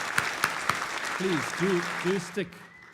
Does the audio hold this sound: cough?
no